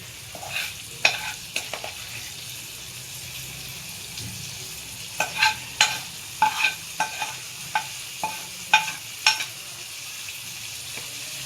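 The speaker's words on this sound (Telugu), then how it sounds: "పోపు వేస్తున్నా." A tempering of curry leaves and coriander crackles in hot oil for tomato chutney, with soft sizzling and a run of short, sharp spatters and stirring clinks in a quiet kitchen.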